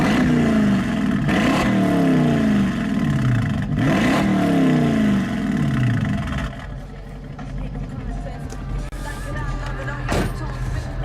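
Car engine with a straight pipe on one side of the exhaust in place of the stock system, revved hard twice in sweeping climbs that fall back, then settling into a rough, burbling idle, close and loud.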